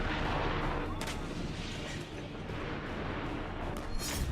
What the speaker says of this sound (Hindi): गोलियों की तड़तड़ाहट, टैंकों से बरसता बारूद